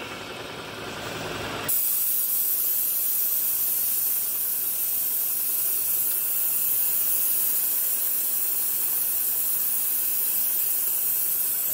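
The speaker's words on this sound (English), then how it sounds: "So I use my little adjustable spray." Adjustable coolant spray hisses steadily at a drilling operation on a ProtoTRAK-controlled two-axis mill, a broad continuous hiss starting abruptly after a short quieter stretch and holding constant and fairly loud to the end.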